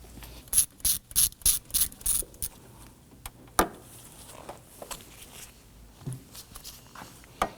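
A ratchet works on a corroded, fused 10mm bolt at an AC line junction on a Nissan Murano 3.5L V6, giving a close run of about seven quick clicking bursts, followed by a sharp knock and scattered light mechanical clicks and rubs.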